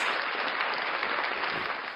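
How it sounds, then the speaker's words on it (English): A crowd gives a dense, steady round of applause for viewers tuning in to a live political talk show, a continuous wash of many hands clapping that holds at an even level and eases slightly at the end. "Round of applause for all the people tuning in"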